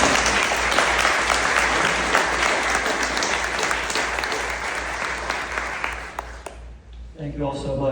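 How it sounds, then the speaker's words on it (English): Loud, dense applause from a full audience at a candidates forum, sustained for several seconds before tapering off, then a voice begins speaking close to the microphone. "After all those statements, an applause from the audience."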